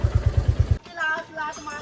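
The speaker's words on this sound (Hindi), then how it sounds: "सो एक हमारी ये बाइक है हंडर, दूसरा ये आ गया क्लासिक।" A Royal Enfield Classic motorcycle arrives with a quick run of deep, evenly pulsing engine thumps close by, then cuts away to someone talking.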